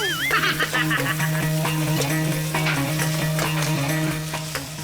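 Rice and corn stirred together in a hot pan, a steady scraping and sizzling of spoon against metal running throughout, with a low tonal hum underneath.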